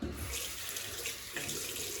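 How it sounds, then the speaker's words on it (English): A tap runs steadily for a cold-water rinse after a wet shave with a 1970 Gillette Super Slim Twist safety razor, giving a continuous close splash into a sink throughout. "Right, cold water rinse."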